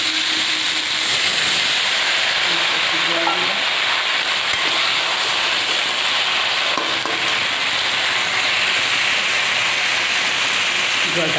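Bottle gourd frying in a pan after water is poured in, producing a loud, steady sizzle and hiss with steam that carries on throughout.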